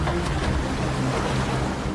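Open-sea waves slap and churn around a boat heading for Netrani Island, with an even rushing wash and a low engine hum underneath, near and steady.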